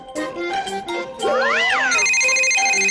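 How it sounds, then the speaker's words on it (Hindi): A cartoon telephone rings in bright electronic chirping bursts, then switches to a sweeping warbling tone and a steady high trill, loud and close. "अरे फिर से किसका फोन आया?"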